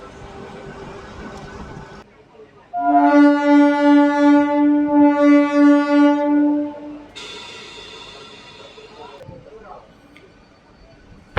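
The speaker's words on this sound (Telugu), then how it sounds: "ప్రసన్నాయనపల్లి నుంచి మన ట్రైన్ బయలుదేరింది" Anantapur–KSR Bengaluru MEMU electric multiple unit pulling out of Prasannayanapalli station, giving a loud sustained horn blast of about four seconds with a pulsing tone, followed by rumbling carriage noise and a fainter second tone.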